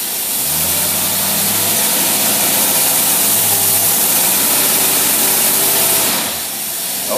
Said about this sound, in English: The more we rev the motor up, the more load it puts on it.